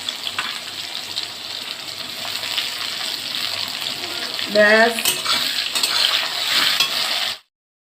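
Chopped onion fries in a pan for a chicken jhol, giving a steady hiss and sizzle with a brief stir and clatter midway. A voice speaks once near the end.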